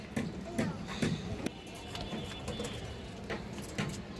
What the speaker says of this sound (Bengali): কাজলা গিয়ার কালো গলা কবুতর